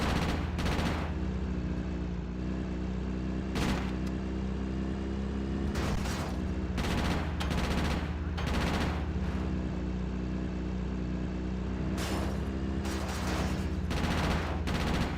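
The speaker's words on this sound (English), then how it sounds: "Shoot that random bystander." Gunfire in GTA: Chinatown Wars, loud sharp shots striking repeatedly, in irregular single cracks and short bursts scattered across fifteen seconds over a steady background hum, with no talk.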